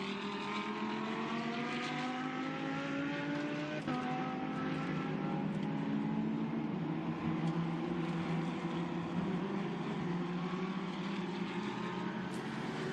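Lamborghini Super Trofeo race cars at the 2018 Shanghai round roar past in a continuous loud engine drone, their pitch sliding as they cross the finish line together, with no talk.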